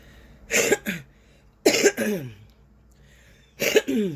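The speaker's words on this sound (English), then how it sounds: "I have to cough, like, to get it out." Three separate bursts of coughing, each a quick double cough, close and fairly loud with quiet gaps between them.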